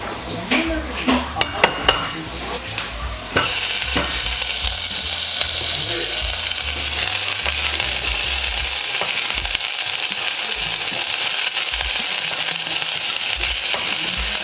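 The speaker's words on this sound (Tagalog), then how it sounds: "Ang una natin gagawin is mag-saute muna tayo ng ating onion." Onions sauteing in olive oil sizzle steadily after a few clinks of a pan and utensil, the frying hiss loud and continuous to the end.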